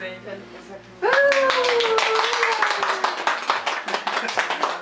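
Hands clapping steadily in rhythm during a Hungarian birthday song, a close run of quick claps that starts abruptly, with singing voices over it.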